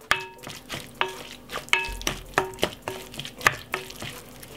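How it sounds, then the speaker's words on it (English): A wooden spoon mixes mackerel sandwich filling in a bowl, giving about a dozen distinct knocks and scrapes at a steady, fairly quick rhythm, close and clear, with no talking. "all I'm going to do is just use my wooden spoon and just give it a lovely mix like this."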